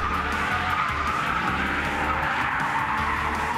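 Drift cars at a training session in Târgu Mureș, with a loud, continuous tire squeal and skid over roaring engines, sustained and close throughout.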